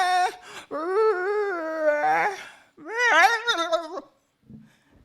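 A voice mimics a hungry dog howling in a comic mimicry act: two long, wavering, rising-and-falling howls, loud and close, each followed by short pauses and a faint trailing sound.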